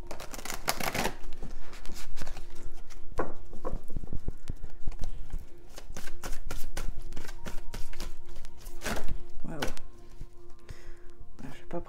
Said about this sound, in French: Je vais bien mélanger mon jeu.